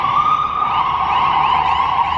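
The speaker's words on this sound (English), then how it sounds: "there are sirens" A wailing emergency vehicle siren in Vancouver sweeps steadily up and down, loud and continuous from a moderate distance, with no voices.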